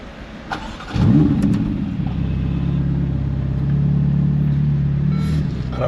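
A steady, droning car engine rumbles throughout a long road trip drive, with a brief rev near the start and faint clicks, no one speaking.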